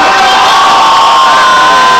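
Crowd of Penn State students outside a window cheering and shouting together, a loud, sustained roar with whoops and high voices blending into one wall of sound.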